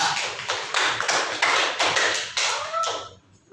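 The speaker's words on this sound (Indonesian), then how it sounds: "berikan aplaus dulu kepada kelompok 3" Classroom applause for a student group, heard as a run of sharp, quick claps in uneven bursts that is fairly close and then tapers off toward the end, with no voices over it.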